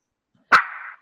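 A dog gives a single short, close bark with a brief tonal tail, heard alone against silence.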